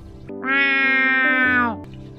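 A human voice imitates a normal cat's meow with one drawn-out, tonal mew that rises and holds before trailing off, sounding close and clear.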